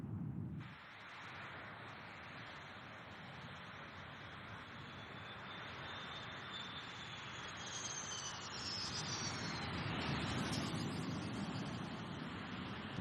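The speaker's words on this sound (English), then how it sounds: "The F-100 Pratt & Whitney turbo fan engines are accelerated to takeoff speed," An F-15 Eagle fighter jet with Pratt & Whitney F-100 turbofan engines throttles up for takeoff, a broad roaring rush with a rising whine that builds steadily louder over several seconds, heard alone.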